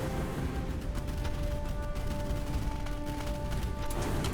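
Rocket launcher and flak cannon fire in the arena shooter Unreal Tournament, a constant crackling barrage of blasts and bursts layered over a steady mechanical hum, loud and unbroken.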